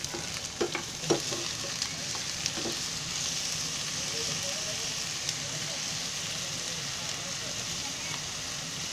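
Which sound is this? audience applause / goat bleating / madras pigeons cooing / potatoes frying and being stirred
potatoes frying and being stirred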